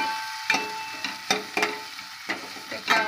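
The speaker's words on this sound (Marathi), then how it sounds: "आता हा कांदा टाकला मी. थोडासा परतून घेऊया चांगला." Chopped onion sautés and is stirred in a pan for pav bhaji, with a continuous sizzle broken by regular spatula scrapes and taps roughly every half second, close and steady with no talk.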